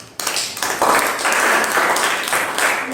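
Students in a school audience applaud the poet Kavignar Arivumathi at Sri Gurukulam, a dense burst of clapping that starts abruptly and holds steady and fairly loud throughout.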